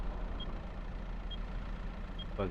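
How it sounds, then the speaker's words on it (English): A truck engine in a farming roleplay game rumbles steadily at close range, with a faint high beep repeating at regular intervals throughout, no talking. "this truck is pushing into me like there's no tomorrow"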